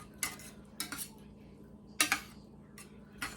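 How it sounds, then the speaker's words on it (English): A utensil stirs a lasagna mixture in a bowl, giving a few sharp, separate clinks and scrapes spaced irregularly over quiet kitchen background, close by and without talk. "So I'm going to stir this around a little bit"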